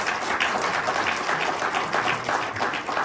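An audience at a documentary premiere screening in Thonon claps steadily, a dense, sustained wash of many hands that fills the whole stretch without any talk.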